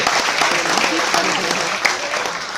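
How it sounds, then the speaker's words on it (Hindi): Audience applause at a product information seminar, a brief, loud and dense round of clapping that fills the room evenly from start to end. "एक जोरदार ताली इन लोगों के लिए।"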